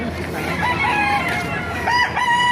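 A rooster crows loudly and close at a chicken market in Baliuag, Bulacan, with one drawn-out call over a busy background murmur.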